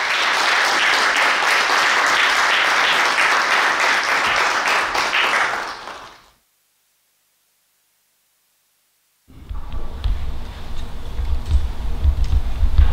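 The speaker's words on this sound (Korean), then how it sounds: "박수 한번 부탁드릴게요." Audience applause at a Thursday evening lecture hall event welcoming a speaker, dense sustained clapping for about six seconds, then silence before the room ambience and murmuring return.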